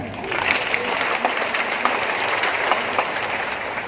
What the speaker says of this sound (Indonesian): Tepuk tangan untuk CFM.